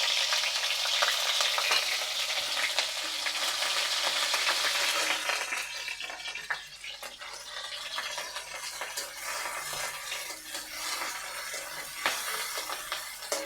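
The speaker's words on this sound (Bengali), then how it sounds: "তেলের উপরে দিয়ে দিচ্ছি পেঁয়াজ, এই চামচের 2 চামচ, আর রসুন বাটা দিচ্ছি 1/2 চামচ" Onion and garlic paste fries in oil with a loud, close crackling sizzle that eases after a few seconds into a softer bubbling hiss, broken by scattered sharp pops and stirring scrapes.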